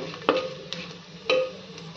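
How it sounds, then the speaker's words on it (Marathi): Onions roasting in a pan with whole spices such as cinnamon, cardamom, star anise, bay leaf and mace, a soft low sizzle broken by three sharp spoon scrapes against the pan, close by with no talking. "हे सगळं कांद्याबरोबर आता भाजून घेऊयात व्यवस्थित।"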